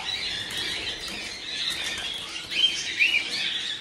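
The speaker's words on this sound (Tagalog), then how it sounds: "So ayan mga kaibon." Birds caught at harvest chirp and squawk in a dense, continuous chatter, close and fairly loud, with a few sharper calls and rustling near the end.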